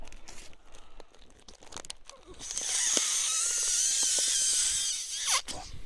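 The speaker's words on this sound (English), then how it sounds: "The idea is you inflate it. Let's do that now." A Luci Original inflatable solar lantern is pulled open and inflated, first with crinkly plastic handling, then a long steady rush of air and stretching plastic, close and fairly loud, ending with a sharp snap.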